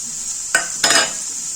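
Masala sizzles in a pan for obbattu saaru under a steady frying hiss, with two short stirring scrapes of a spoon against the pan close by.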